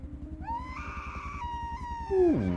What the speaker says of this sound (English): Ooh, blood-curdling scream.